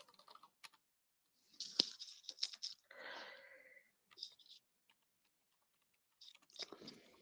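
Someone types on a computer keyboard in a quiet room: soft, close clicking in short bursts separated by pauses.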